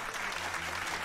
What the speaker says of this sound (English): No, not laugh. Applause.